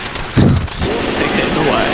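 A short, loud burst of gunfire from the zombie shooter game Left 4 Dead 2, rising abruptly and fading within half a second, followed by a steady bed of game noise with voices talking.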